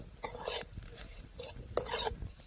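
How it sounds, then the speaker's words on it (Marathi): Ground spice paste with black masala being sautéed in a pan over a wood-fired stove, soft bursts of scraping and stirring with a faint sizzle underneath, fairly quiet and close. "दोन चमचे काळा मसाला घालून आपण वाटण छान परतून घेऊया"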